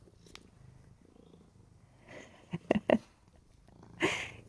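A stray black cat named Midnight purrs faintly while busy eating outdoors, a low steady rumble broken by a few louder chewing or rustling bursts near the end.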